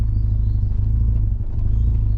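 A Mazda RX-8 rotary engine idling with a low, steady rumble close by, the revs dipping briefly as the early-biting clutch engages in gear.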